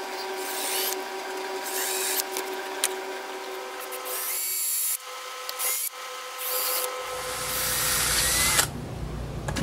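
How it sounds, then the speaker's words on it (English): A power drill with a 1/4 inch bit whines steadily while boring into wood, with the pitch shifting under load and a rougher grinding toward the end, close by. "I'm using a 1/4 inch drill bit on it"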